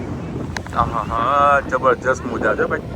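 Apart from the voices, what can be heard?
cool sea wind blowing at the beach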